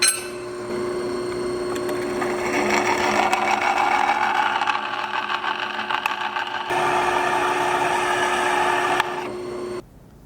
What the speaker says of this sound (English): drilling rivets and stuff, going slow, medium pressure, allowing the bit to kind of like bite into it and rip it off